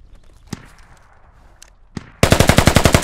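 Gunfire in a tactical multiplayer video game: two or three scattered single shots, then a loud, close burst of rapid automatic fire, around ten evenly spaced rounds.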